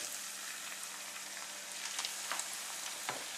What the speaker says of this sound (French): vous avez prévu un wok avec un bain d'huile. Et on va donc démarrer la cuisson côté garniture.